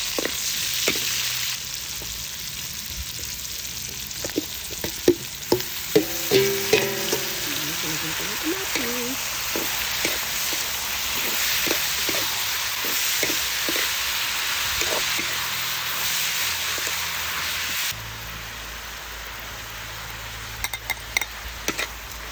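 Onions sizzle loudly in leftover oil from frying fish, a continuous close frying hiss broken by clattering spoon stirs and pan knocks, with some talk now and then.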